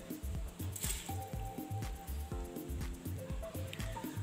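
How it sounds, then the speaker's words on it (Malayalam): Washed rice is tipped into cooking water, making a run of close, wet squishing and plopping sounds with irregular knocks from the pot. "ഞാൻ മുഴുവനായിട്ടും അരി ഇതിലേക്ക് ഇട്ടിട്ടുണ്ട്."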